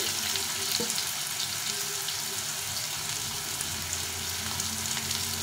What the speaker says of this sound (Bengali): কয়েকটা লম্বা লম্বা করে আলু দিয়েছি, আলুটাকে ভেজে নেব।